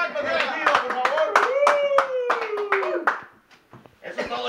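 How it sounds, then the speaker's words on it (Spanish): Clapping hands for the young members of Grupo Regido, a quick, uneven patter of claps under a loud voice that holds a long, drawn-out call, thinning to a few scattered claps near the end. "¡Un aplauso para los chamacos de Regido, por favor!"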